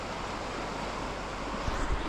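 A strong river current rushes loudly and steadily at a riverside camping spot on a backroad, a dense broadband roar of churning water heard up close with wind buffeting the microphone and no voices.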